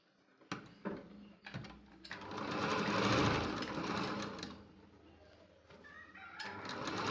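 A sewing machine stitching tucks on a blouse runs in a close burst of rapid whirring, preceded by a few short clicks and bumps as the fabric is positioned, then slows and stops near the end.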